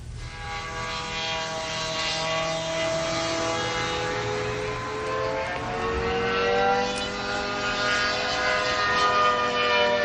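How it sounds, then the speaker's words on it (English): Propeller airplanes flying low over a residential property, a steady loud engine drone with shifting harmonic tones held for about ten seconds, with no talk. "I have a tape here showing the loudness of the airplanes when they come on my property"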